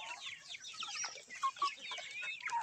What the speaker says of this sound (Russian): Пойду кормить курей.